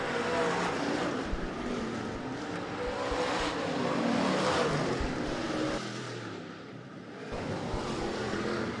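Stock cars at a Sportsman heat race roar around an oval track in a continuous, fairly distant engine drone that rises and falls as the field passes, with no talk heard.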